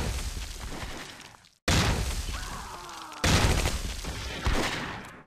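Mortar shells exploding in the Close Combat: Cross of Iron war game, a series of loud booms, each decaying into rumbling debris, with abrupt cuts between bursts.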